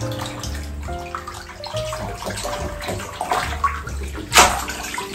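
Running water splashes and gurgles while a pet cage is rinsed and scrubbed, close and uneven, with sloshing bursts and a sharp spray near the end, a faint hum underneath and no talk.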